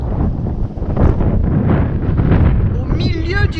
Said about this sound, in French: on va parler fort parce qu'il y a du vent